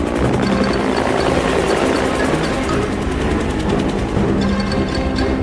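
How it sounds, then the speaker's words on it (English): Sea Stallion helicopter lifting a roughly 1,500-pound disc on a cargo cable, with a loud, steady, close rotor roar and rapid blade chop throughout. "connected to a cargo cable from the Sea Stallion helicopter"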